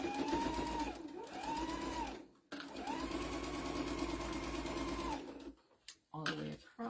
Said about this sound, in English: I'm going to sew it a 1/4 inch.